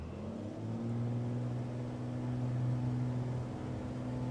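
A Cirrus SR22 piston engine at full throttle in Microsoft Flight Simulator drones with a steady, even hum that swells slightly midway, moderately loud and continuous, with no talking.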